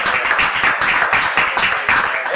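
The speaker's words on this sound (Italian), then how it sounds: "Un applauso, ragazzi" Brief applause from a small group in a radio studio during an evening show with guest singers, steady broadband clapping with rhythmic pulses, close and fairly loud, with no clear talk over it.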